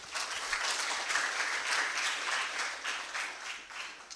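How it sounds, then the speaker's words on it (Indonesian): An audience at a public energy-policy talk applauds a moderator, with dense, steady clapping of even loudness sustained for the whole few seconds. "Tepuk tangan dulu untuk beliau ini."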